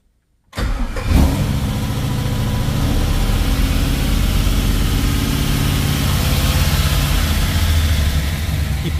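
A freshly rebuilt 1967 Pontiac Tempest engine cranks and fires after a brief silence, then settles into a loud, close, steady idle with a lumpy mechanical rumble held slightly above base RPM.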